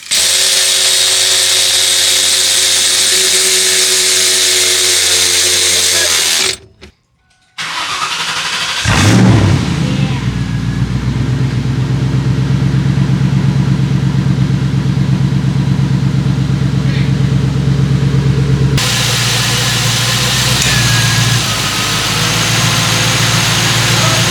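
A 1999 Ford Mustang GT V8 fired up close by, loud and steady idle with a brief cut-out and restart, then a settled rumbling idle with a slight rise in pitch, no talking over it.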